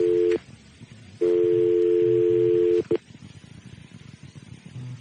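Telephone tones sound on a handset: a long steady tone, a short break, then another sustained tone and a brief blip, with faint background murmur after.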